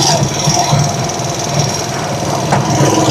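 A vehicle engine drones steadily and loudly while driving through deep floodwater that has half submerged it, with a rough low rumble and water noise throughout and a voice briefly audible.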